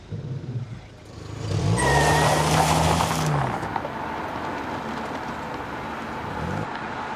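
A car engine rises in revs as the clutch is slowly let out, swelling to a loud whirring peak and then settling to a steady running drone; a voice speaks briefly at the start.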